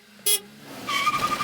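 Short, loud beep from the horn of a Japanese mini truck, a single bright toot near the start, followed by a revving engine of the small truck.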